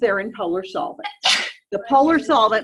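A single sharp sneeze bursts out from someone in a chemistry lecture hall, cutting briefly between stretches of a lecturer's ongoing talk, which resumes right after it.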